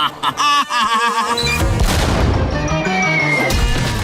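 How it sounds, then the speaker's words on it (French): Cannon shots fired in a children's animated cartoon, heard as loud crashing booms and smashes layered with music and effects throughout, with a brief voice near the start. "On va trouver un moyen d'éviter ces tirs de canon"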